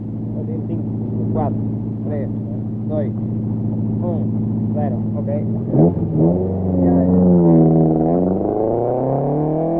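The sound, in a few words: 1971 rally cars, a Lancia, moving off to the start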